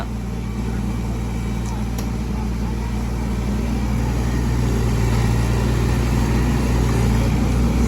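A Kubota KX033 three-ton excavator with a three-cylinder Kubota diesel drones steadily and loudly while digging a drainage trench. A voice talks over the constant engine rumble.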